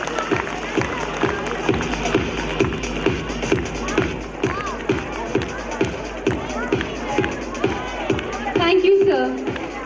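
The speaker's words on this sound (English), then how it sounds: "Please give a big round of applause." An audience at a school annual day celebration applauding: sustained, fairly loud clapping with a steady rhythmic pulse and crowd murmur throughout.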